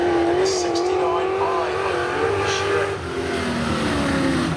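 Race cars at a saloon shootout drag event rev and scream down the track, a sustained high engine whine rising and shifting in pitch, with an announcer talking over it.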